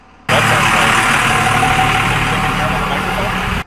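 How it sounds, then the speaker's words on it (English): A noisy car passes close by with a loud, steady engine roar that starts abruptly and holds nearly level for a few seconds before cutting off. "we got a noisy car going by"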